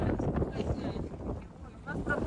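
Wind gusting over open sea off Valletta, Malta, heard from a boat as a steady rushing roar with buffeting on the microphone, continuous and fairly loud throughout.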